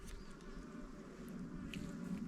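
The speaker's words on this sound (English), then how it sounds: "bees are working now when I see nectar, pollen coming in" Honey bees at an opened hive early in the season, bringing in nectar and pollen, make a steady low drone close by that continues evenly without pause.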